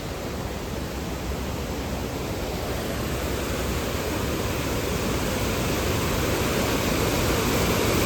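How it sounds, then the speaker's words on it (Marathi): A waterfall fed by swollen, rain-fed water roars in a dense, unbroken rush, loud and steady throughout without any voices. "आणि इकडं खाली आहे धबधबा आहे. हो या नावावरनं पाणी पडतं."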